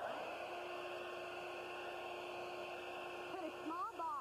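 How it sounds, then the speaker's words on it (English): A hair dryer set to cool, pointed toward the ceiling, blows a steady broadband whoosh with a constant motor whine that holds unchanged throughout, close by and loud, with a brief voice near the end. "Just turn your hair dryer on. Be sure to turn it on cool and face it towards the ceiling."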